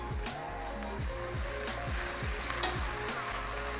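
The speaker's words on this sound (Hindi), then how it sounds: "सिर्फ इसको 2 से 3 मिनट के लिए हमने यहाँ पे फ्राई करना है, ताकि जो प्याज का कच्चापन है वो ख़त्म हो जाए" Onions frying with garlic-ginger paste, a loud continuous sizzle close up, with rhythmic scraping strokes of a spoon stirring through the pan about twice a second.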